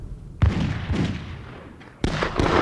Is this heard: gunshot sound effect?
yes